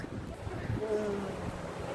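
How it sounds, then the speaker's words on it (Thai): Strong wind blows steadily across a beach, a continuous loud rush with a faint tonal whistle in the middle, while someone speaks softly under it. "ลมแรงมาก"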